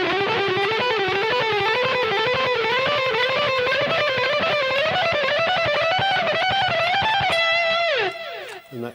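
Distorted electric guitar runs an alternate-picked lick with two notes per string, rapid even notes rising in a rippling line, loud and unbroken before ending on a bent, sustained note that fades out.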